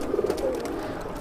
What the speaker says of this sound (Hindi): तो सारे के सारे मद्रासी कबूतर हैं